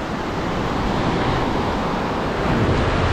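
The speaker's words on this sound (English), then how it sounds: "When the waves go back in." Ocean waves wash onto a beach in Morocco, a continuous close rushing surf with wind buffeting the microphone, no voices.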